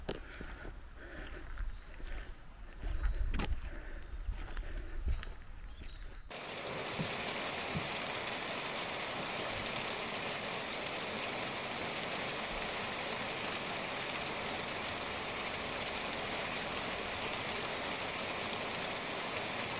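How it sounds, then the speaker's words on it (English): Steady hiss of rain and hail pelting a surface, a few heavier thumps early on before settling into a constant, even patter. "A mix of hail and rain."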